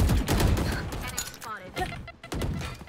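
Rapid gunfire in the tactical shooter Valorant: sharp bursts of shots crack in quick succession, loud and close, with a short lull midway before the firing resumes.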